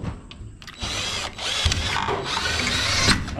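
A power drill drives a gypsum screw while a sliding window is installed. The motor buzzes and grinds steadily for a few seconds, close and fairly loud, after a short pause with a brief mechanical click.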